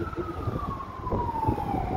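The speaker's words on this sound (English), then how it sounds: "it's an ambulance over there" An ambulance siren wails with a slowly falling pitch as it passes on a city street at dusk, moderately distant over low traffic rumble.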